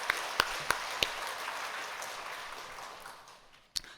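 A church congregation at a Sunday service claps in warm welcome for newcomers, a soft wash of applause with a few sharper single claps near the start and a last loud clap as it fades out.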